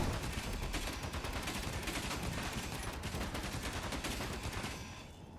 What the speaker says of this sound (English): Bullets coming from over here.